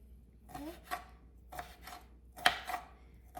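Partly frozen shrimp being chopped with a knife on a board, a few separate crisp cuts spaced irregularly, close and fairly quiet with no talk.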